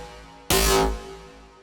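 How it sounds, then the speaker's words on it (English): A heavy, gnarly, transient impact hit leading into the drop of a midtempo electronic track: one loud, distorted burst after a brief hush that fades over about half a second into a low tail, with no voices. "It's your nice, really transient, heavy, FME, gnarly sound that introduces you to the drop."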